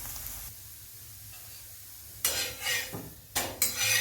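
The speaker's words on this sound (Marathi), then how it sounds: "या प्रकारे आपण आता भाजून घेणार आहोत सगळे।" Thalipeeth roasting in ghee in a pan, a low steady sizzle at first, then loud bursts of spatula scraping and clattering against the pan near the end, close up.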